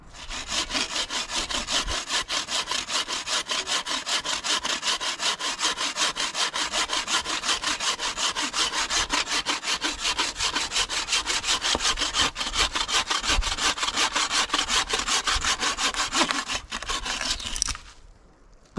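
A bushcraft bucksaw cuts through wood in a steady, fast back-and-forth rhythm for the whole stretch, close and loud, then stops abruptly near the end.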